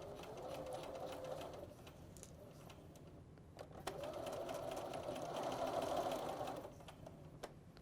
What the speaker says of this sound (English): with a 5/8 inch seam allowance, we'll stitch it in place